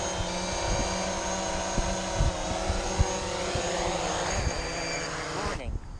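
A small camera drone flies close by in gusty wind on a hillside hike, its steady multi-rotor whine and harmonic buzz loud and continuous, fading as it lands near the end.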